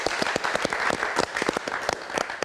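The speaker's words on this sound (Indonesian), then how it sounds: "Kita berikan tepuk tangan." Applause from a large cinema audience of several hundred at a film event, steady dense clapping throughout with sharp individual claps standing out near the microphone.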